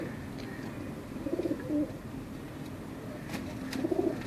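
A pigeon coos softly in a couple of short, low, rolling bursts, faint against a quiet background.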